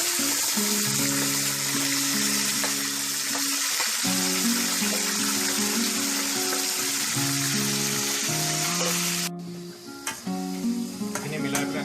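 Marinated chicken hits a hot pan with onions, a dense, bright sizzle close by, steady throughout with stirring clatter and a few soft scrapes, briefly dropping at the end.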